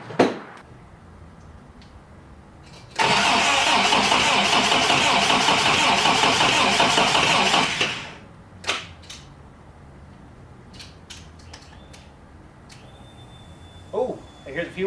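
A Toyota 4x4 pickup engine, newly rebuilt, cranks and churns loudly for about five steady seconds, then drops away, leaving scattered clicks and knocks and a voice talking near the end.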